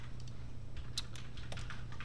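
Someone types code on a computer keyboard, producing quiet, irregular clicking keystrokes over a low steady hum.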